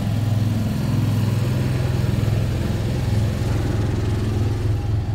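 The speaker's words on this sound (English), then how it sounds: "It's got an Onan 5500 gas generator" An Onan 5500 gas generator mounted on a 2021 Grand Design Momentum 320G toy hauler RV runs steadily nearby, a loud, continuous low engine drone with an even, throbbing rhythm and no talk.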